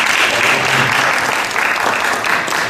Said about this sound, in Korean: 청년들이 너무 잘했다고 생각하시면 한번 박수를 쳐주시기 바랍니다